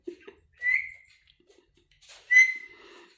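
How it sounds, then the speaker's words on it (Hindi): A pet parrot whistles two short rising notes about two seconds apart, clear and close in a quiet room with faint soft rustles. "सीटी कौन बजाता है इसे?"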